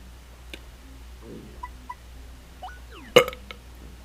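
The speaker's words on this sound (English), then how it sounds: "Just a little burping beetle." A burping beetle in the game Paper Mario: The Thousand-Year Door lets out one short, sharp burp near the end, after a stretch of faint, sparse chirps and blips from the game.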